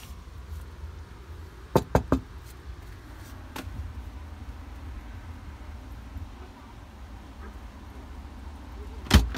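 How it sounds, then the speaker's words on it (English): A few sharp knocks on a garden house door come in a quick cluster of three, then a lone rap and a final knock, set against quiet outdoor background noise. "I'm going to knock the door."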